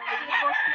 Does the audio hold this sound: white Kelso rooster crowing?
yes